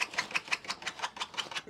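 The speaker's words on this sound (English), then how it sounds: "Excuse the noise, that's Jenny with her cone on" A dog wearing a cone scratches itself in fast, rhythmic strokes, about six a second, close by and fairly quiet, with no talking.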